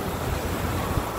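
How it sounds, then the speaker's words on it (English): Steady seaside wind blowing by the ocean in Condado, Puerto Rico, a continuous broadband rush with surf-like texture, close to the microphone and fairly loud, with no talking. "Ooh, that nice wind."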